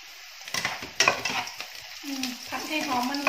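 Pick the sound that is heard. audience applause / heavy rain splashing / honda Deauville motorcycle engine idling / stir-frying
stir-frying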